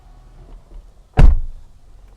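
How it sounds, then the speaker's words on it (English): The rear door of a 2022 Toyota Tundra Capstone pickup swings shut with one solid, loud thunk that decays quickly after a short quiet lead-in. "And I'll shut up the door here."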